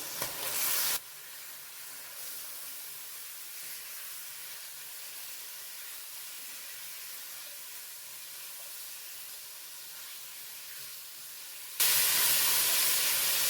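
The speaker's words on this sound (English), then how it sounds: "We're gonna let this saute for just a couple of minutes." Onion with garlic powder, ginger and seasoning sautéing in a soup pot for jambalaya, a steady soft hiss and sizzle running evenly throughout, close and moderately quiet, with no talking.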